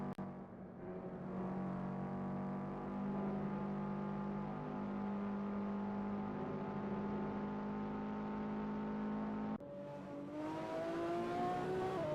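A race car in the SimSpeed Sport Cup video game taking Clubhouse Bend, its engine holding a steady, droning whine with shifting pitch, then a brief drop before it picks up again and rises, continuous and alone.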